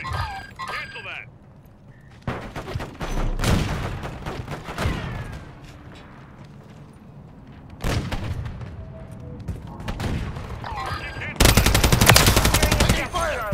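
Gunfire from a military shooter on a new Xbox, with bursts of automatic fire and heavy booms, loudest in a dense volley near the end, mixed with game radio chatter.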